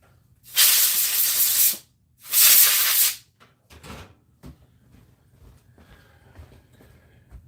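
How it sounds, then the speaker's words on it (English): Two strong bursts of an air compressor nozzle blow crud out of a projector, each a loud hiss of about a second, followed by faint handling knocks and small clicks. "I'm actually going to whack that with the air compressor real quick."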